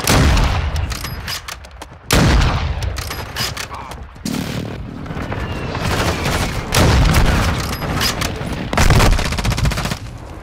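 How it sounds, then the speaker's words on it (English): Heavy airstrike explosions and rapid gunfire burst loudly in Call of Duty: Modern Warfare II, repeated booming blasts punctuating dense rattling shots in a chaotic, close-up battle mix. "Hostile airstrike near your location."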